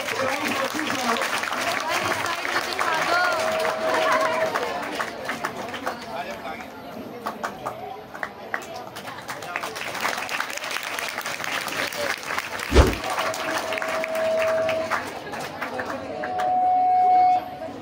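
Applause for a science teacher receiving a trophy at a school event, a long spell of steady clapping from a crowd mixed with chatter and an announcer's voice, with a brief sharp thump partway through.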